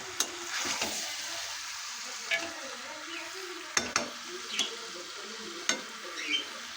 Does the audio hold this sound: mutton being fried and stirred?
yes